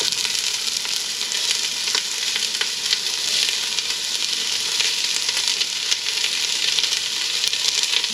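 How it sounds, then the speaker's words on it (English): Steady, dense sizzling of shallot, onion and garlic frying in hot oil, close and continuous with faint crackles throughout. "So just enough to start frying our seasonings."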